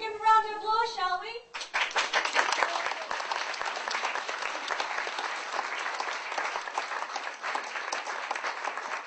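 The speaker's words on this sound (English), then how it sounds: "Let's begin a round of applause, shall we?" Theatre audience at a studio theatre breaks into loud, sustained applause, dense clapping that fills the room steadily after a brief spoken line at the start.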